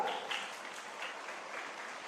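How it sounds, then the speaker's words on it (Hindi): An audience at a UP Police public event claps steadily for about two seconds, a fairly faint, even wash of many hands with no voices. "जोरदार तालियां बजाइए, जोरदार।"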